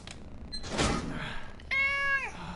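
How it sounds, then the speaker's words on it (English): A cat meows in the video game Uncharted 3: Drake's Deception. A soft thump and a breathy noise come first, then one clear, drawn-out meow near the end, fairly quiet overall. "Cat."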